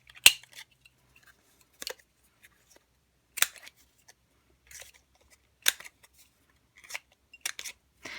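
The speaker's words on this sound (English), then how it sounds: "I will grab the Project Life corner round punch, just round the edges off." A Project Life corner rounder punch snipping the corners off paper for a Valentine's box craft, sharp crisp clicks spaced about a second apart, some doubled, in an otherwise quiet room.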